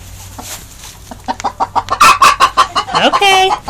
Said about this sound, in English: That broody hen noise.